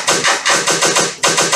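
A typewriter from a virtual instrument plugin clatters loudly in quick, steady keystrokes, with a brief gap before the typing resumes, dense and close with no voice over it.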